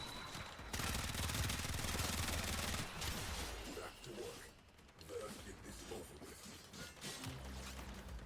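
Rifle gunfire in the video game Warframe, dense rapid bursts of shots with mechanical clatter, loud at first and then broken into scattered volleys.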